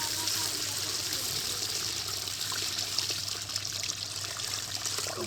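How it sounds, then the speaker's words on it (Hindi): Milk is poured into a pan for Bannu-style semolina halwa, making a steady, continuous splashing trickle throughout, close and even in level. "दूध में ऐड करके दूध को इसमें ऐड कर लें।"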